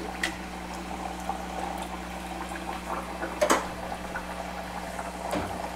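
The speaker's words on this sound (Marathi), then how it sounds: "तर बघा आपलं तेल तापलेलं आहे. आता आपण एक एक करून कचोरी सोडूया हळू." Moong dal kachoris fry in hot oil over a low flame, a soft, continuous bubbling and gentle sizzle with a few sharper pops.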